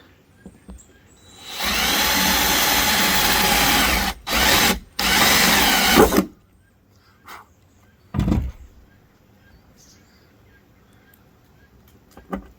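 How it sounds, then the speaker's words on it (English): A power drill with a 9/64 bit whirs at high speed drilling a pilot hole for cab lights on a Ford Super Duty F250, stops briefly twice, runs again, then gives a short final burst amid quiet pauses. "This should be a 9/64 drill bit."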